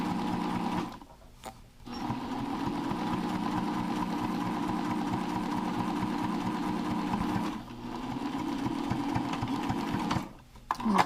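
Sewing machine topstitching a permanent fold on a face mask, a steady close mechanical whir running almost continuously with brief stops near the start, the middle and the end; no voices.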